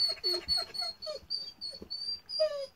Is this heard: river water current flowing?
no